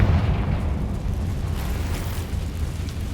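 A Confringo spell explodes in Hogwarts Legacy, a loud burst at the start that rolls into a dense, rumbling roar lasting several seconds.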